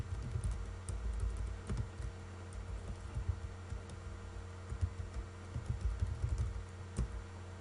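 Typing on a computer keyboard, with steady soft key clicks and occasional heavier return-key taps running throughout, close and fairly quiet over a low background hum.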